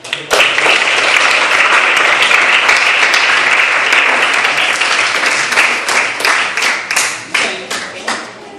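Students and audience at a school mock trial applaud loudly and steadily for several seconds. The clapping then breaks into scattered, fading bursts of a few hands.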